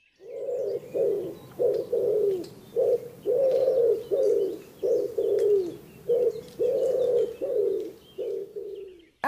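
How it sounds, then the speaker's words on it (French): A common wood pigeon coos repeatedly in close, hoarse, rhythmic phrases of five notes, the low mellow notes grouped in steady runs with brief pauses between. "Ces 5 notes-ci appartiennent au pigeon ramier."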